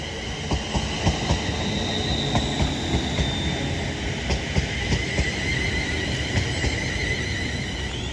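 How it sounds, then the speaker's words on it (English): A double-length London Northwestern Railway Class 350 electric multiple unit arriving at Acton Bridge on the West Coast Main Line, with a steady loud rumble of wheels, rhythmic rail clicks and a thin high squeal throughout. "this double London North Western Railway Class 350 now arrives in"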